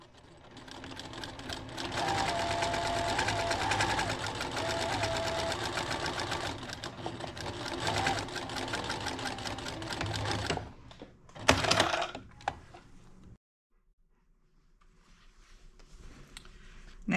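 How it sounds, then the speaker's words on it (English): A sewing machine stitches six inches along fabric folded in half, with steady fast needle chatter for about ten seconds. A brief clunk follows, then near silence. "Now we're going to go and sew from our one mark to the other mark 6 inches with our fabric folded in half."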